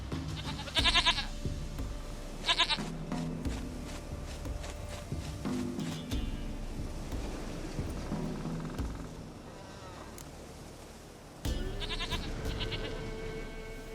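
A goat bleats in The Witcher video game: three loud, wavering cries spaced well apart, with soft footsteps and ambient game sounds between them.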